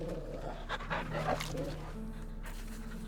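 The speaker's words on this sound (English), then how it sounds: "No need for all that growling, Torgal." Torgal, a dog in Final Fantasy XVI, makes low panting and rough growling sounds, faint and close, in short bursts over a quiet steady hum.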